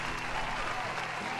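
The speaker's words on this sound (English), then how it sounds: "A big final round of applause just for everybody." An audience at a homebrew game review session breaks into a steady wash of applause, dense and close throughout with no single claps standing out.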